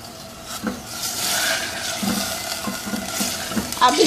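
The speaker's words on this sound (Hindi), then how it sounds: "अब इस चिकन को भूनेंगे" Chicken with ginger garlic paste sizzles and fries in a handi while a spoon stirs and scrapes it in repeated strokes, with a steady close hiss and no talking.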